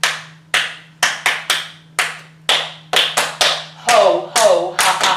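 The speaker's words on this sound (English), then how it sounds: "So we'll do the clapping part first" A small group claps together in an exercise session, making single sharp claps at an uneven, loose rhythm that quickens into a few doubled and clustered claps, with a low steady hum beneath.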